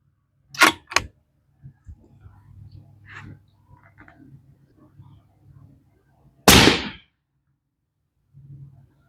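A Tikka T3X Hunter rifle in .243 Winchester fires sharp, loud shots close by. Two quick cracks come early and a heavier blast follows later, with faint murmuring and light bolt clicks in between.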